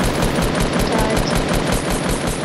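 Rapid automatic gunfire in a video game shootout, loud repeated shots in a steady fast rhythm that fill the whole moment with no talking.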